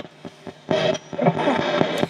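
An SP7 spirit box sweeps rapidly through radio stations with reverb turned fully up, producing choppy bursts of static and clipped broadcast fragments in an uneven pulsing rhythm.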